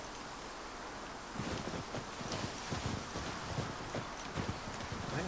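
Horse hooves clip-clop at a steady walking pace over a windy, hissy outdoor background in the video game The Last of Us Part II, the footfalls clear and moderately close.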